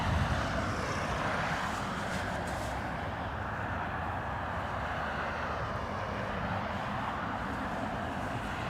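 A Ryanair jet from Stansted arriving at Dublin Airport produces a steady, broad engine roar that holds at a constant level throughout, loud and close with no other sounds over it.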